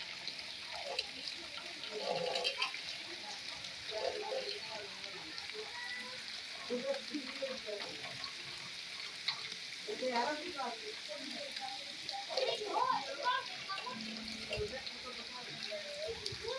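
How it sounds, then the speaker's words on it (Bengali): Very heavy rain hisses and crackles steadily during a severe storm, a dense sizzling wash under intermittent talking throughout. "খুব ভারী বৃষ্টি হচ্ছে খুব ভারী"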